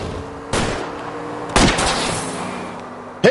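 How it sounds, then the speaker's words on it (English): Two sharp gunshots about a second apart ring out at a fleeing car's tires in the 1940s Los Angeles crime game L.A. Noire, over a steady engine drone, with a third shot at the very end. "I'll try to shoot out his tires."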